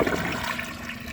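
Flush of a 2006 Vitromex Marathon II comfort height toilet, a loud, quick rush of water heard up close and alone, strong from the start and steady throughout.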